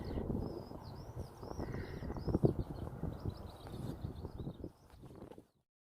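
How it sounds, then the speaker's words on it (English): Small birds chirping and trilling outdoors on a morning hike, fairly faint and distant, over steady rustling, footsteps and wind noise close by. "Can you hear those birds?"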